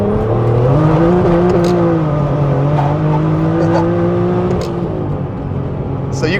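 Turbocharged BMW E36 with a swapped ZF 8HP automatic gearbox accelerates hard up to its rev limiter, a loud, steady rising engine drone with whine, heard from inside the car.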